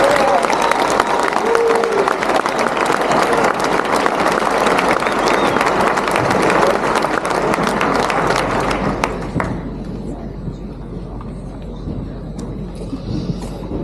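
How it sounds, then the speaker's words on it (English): Large graduation audience gives a loud, dense round of applause that holds steady for about nine seconds, then drops off to scattered claps and faint murmurs. "please join me in a really loud round of applause for Sharon Anderson"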